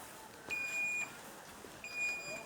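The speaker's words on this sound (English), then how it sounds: "we've given you an alarm system that will prompt you that the system is still working" Electronic alarm on a solar-powered hand washing machine gives two high, steady beeps, each about half a second long and spaced apart, faint against a quiet background with no talk.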